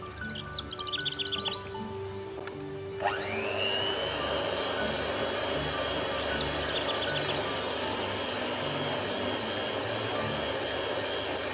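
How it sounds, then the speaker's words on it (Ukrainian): Electric mixer beating cake batter after 200 grams of flour are added for a currant pie, a loud steady whine that starts abruptly and runs on continuously, with faint bird chirps in the background. "Висипаємо і починаємо збивати."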